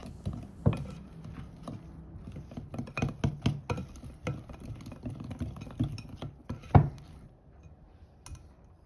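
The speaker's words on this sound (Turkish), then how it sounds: "Tekrardan çırpıcıyla çırpıyorum." A hand whisk works through thick lemon cookie dough in a bowl, giving a rapid run of soft knocks and scraping taps, close and fairly quiet, with a couple of louder clinks against the bowl.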